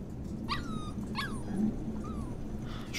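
A puppy named Mushroom whimpers and yips in Life is Strange 2: a few short, high, rising yelps spaced about half a second apart, with a soft whine between them, fairly close and clear over a low background hum.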